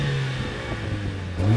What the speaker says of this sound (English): I'm gonna rev my engine. Got it in the sporty setting.